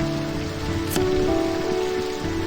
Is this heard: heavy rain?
yes